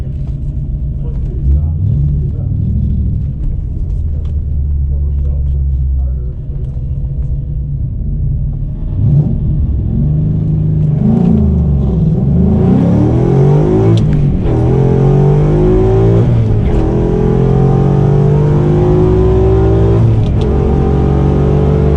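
A Ford Coyote V8 engine in a BMW revs and accelerates with a deep, throaty rumble, rising in pitch over the last half while someone talks over it.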